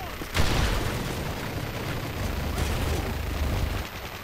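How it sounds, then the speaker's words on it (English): Continuous rapid turret gunfire in Modern Warfare 3 hammers away loudly for several seconds, a dense roaring stream of shots with a sharp crack at the outset and a slight drop at the end. "Sounds like a turret, son."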